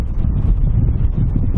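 Wind blowing outdoors near mountains, a steady low buffeting rush with gusty surges that hits the microphone continuously and loudly for the whole stretch, with no voices.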